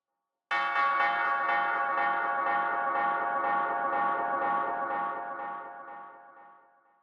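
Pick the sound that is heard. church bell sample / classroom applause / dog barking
church bell sample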